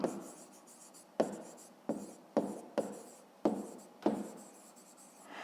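A pen writes in a notebook, working through a grade 5 maths exercise. Quick scratchy strokes come in short bursts with brief pauses between them, close and fairly quiet, with no talking.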